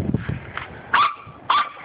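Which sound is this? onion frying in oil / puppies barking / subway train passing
puppies barking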